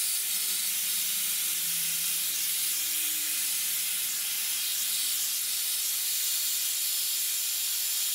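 A hair dryer fitted with a diffuser runs on medium speed with no heat while drying curly hair, giving a constant airy whoosh and hiss that holds steady throughout without a break.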